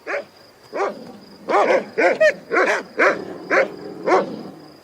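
A dog barks repeatedly at close range, about eight sharp barks in an uneven rhythm, some doubled, with no talking.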